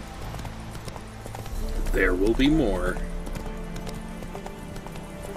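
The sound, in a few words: horse hooves on a path in The Witcher 3 video game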